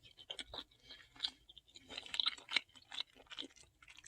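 Close, irregular crunching and munching of crunchy cheese puffs, many quick bites and chews in a steady rhythm, quiet and without talk.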